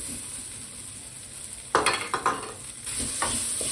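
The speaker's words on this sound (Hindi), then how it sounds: "आलू को भूनते हैं।" Potatoes for samosa filling, seasoned with amchur powder and black salt, being stirred in a pan: a quiet background sizzle with several distinct scraping stirs of a spoon against the pan.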